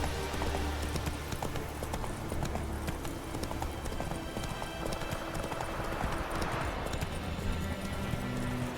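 Roach, the horse from The Witcher 3, gallops in a steady, rapid clip-clop of hooves that runs through the whole stretch at an even loudness, with no one speaking.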